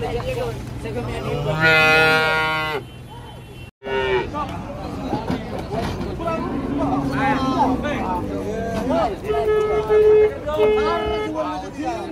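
Cattle being unloaded from a truck in Situbondo, with several loud, drawn-out moos in quick succession from nearby animals, one after another, over a busy background of people talking and handling noise.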